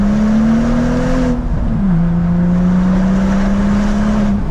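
A BMW car accelerates hard with a loud sustained engine drone that climbs in pitch, drops briefly at a gear change, then climbs again, heard from inside the car.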